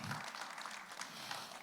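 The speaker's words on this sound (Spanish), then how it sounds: "Dale un aplauso al Señor." Faint, distant applause from a church congregation clapping for the Lord during a sermon, a soft diffuse patter of many hands heard for under two seconds with no clear talk over it.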